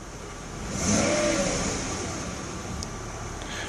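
A 1994 Mercedes S500 engine revs up once and then eases back down, a steady mid-pitched engine drone close by with faint background hiss.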